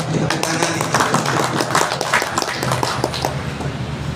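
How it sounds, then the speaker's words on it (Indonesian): Audience at a community gathering of people from Kebumen claps for Kang Karno, a steady patter of many hands filling the room, with faint voices mixed underneath. "tepuk tangan nih"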